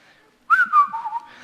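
A single person whistles a short, clear, wavering tune of a few notes, close and loud against near silence.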